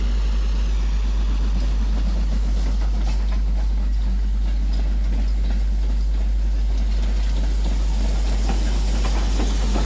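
A steam train rolls into a station with a steady broad rumble, a low hum and hissing. The clip holds no clear whistle or distinct chuffs, and no one speaks.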